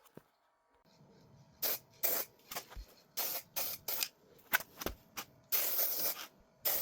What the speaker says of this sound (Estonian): nüüd ma proovingi, kuidas selle spreiga jääb ja siis ma teen alles sellele lillepotile